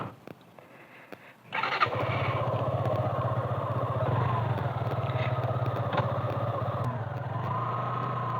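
A damaged motorcycle awaiting repair starts up after a quiet moment, then settles into a steady, loud, close idle with a rapid even throb that runs to the end.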